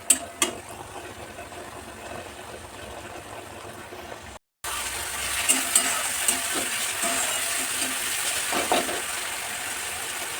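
Stirring and frying in a pan as a home cook prepares a fish curry, oil separating with coriander leaves added; a steady sizzle with scraping stirs and a few utensil clicks, briefly cut by a gap midway, no talk.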